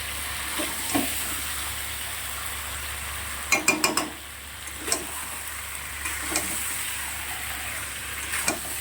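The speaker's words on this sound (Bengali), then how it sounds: "তো চলো মাংসটা ভালো করে কষাই" Soft, steady frying hiss of mutton in a pan, broken by a few stirring scrapes and clatters, fairly quiet with no talking.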